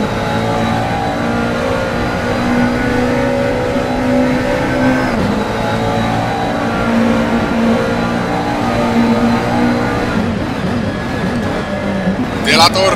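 Race cars in Gran Turismo powering through Monza's Variante Ascari chicane, a steady loud engine drone with rising and falling pitch as they accelerate, under continuous commentary.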